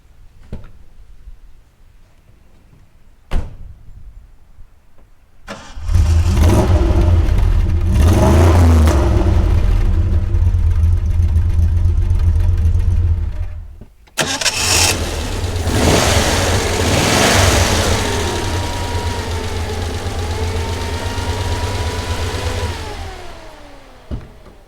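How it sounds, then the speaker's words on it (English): A Glas 2600 V8 cranks and catches, then revs hard through a few loud throttle blips, cuts briefly and restarts, settling into a rumbling idle with rising and falling revs. "you enjoy the V8 sound"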